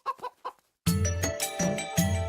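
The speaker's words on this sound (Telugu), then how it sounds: "కోడి దూకింది చూడు" A hen clucks in a few short, separate bursts, then a loud, busy wash of sound swamps everything for the rest of the moment.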